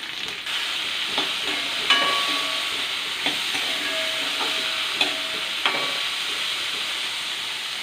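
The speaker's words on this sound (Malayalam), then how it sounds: "അരിഞ്ഞു വച്ചിരിക്കുന്ന ഇൻഗ്രീഡിയൻസ് സവോള പച്ചമുളക് തക്കാളി ഇവ ഇട്ട് കൊടുക്കാം ഇവ നന്നായിട്ട് കിടന്ന് നമുക്ക് ഒന്ന് വരട്ടിയെടുക്കാം" Sliced onion, green chili and tomato sauté in a hot pan for Kerala egg curry, a continuous sizzle and hiss broken by a few sharp scrapes of the spoon stirring, close and with no talking.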